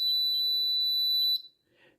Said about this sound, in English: we should hear that buzzer go off right away